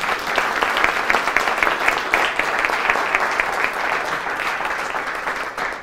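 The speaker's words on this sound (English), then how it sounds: "Please, a round of applause." An audience at a CiviCRM project update claps for contributors, sustained and fairly loud applause with dense, slightly uneven hand claps rising and falling over several seconds.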